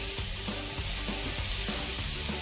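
Chilli powder and spices stirred in hot oil in a frying pan for chicken roll sauce, giving a steady close sizzle with soft scraping strokes at a regular rhythm throughout.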